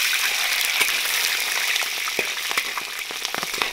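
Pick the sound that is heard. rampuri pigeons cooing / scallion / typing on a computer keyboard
scallion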